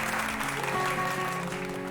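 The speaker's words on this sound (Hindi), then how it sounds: "आपकी तालियों के जोश को सुनकर" Audience clapping at a ghazal concert, a short burst of steady applause with a sustained musical tone lingering beneath it.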